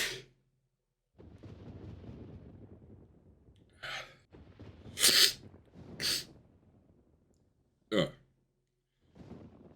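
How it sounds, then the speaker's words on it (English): A man sneezes a few times in sharp, loud bursts close to the microphone, with quiet muttering and breathing between them during a NASCAR driver's casual talk. "I have to sneeze again."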